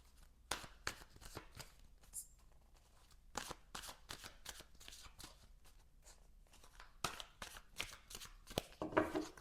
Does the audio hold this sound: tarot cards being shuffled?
yes